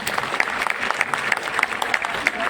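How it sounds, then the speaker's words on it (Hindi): An audience at a meditation gathering in Bodh Gaya applauds steadily, a dense wash of clapping with distinct sharp claps standing out, fairly loud and continuous throughout. "पहली बात तो इन सारे मास्टर के लिए फिर से जोरदार तालियां।"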